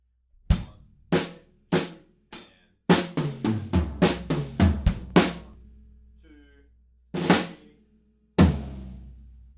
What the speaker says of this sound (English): This fill is going to go like this. It's 2 bars and it sounds like this.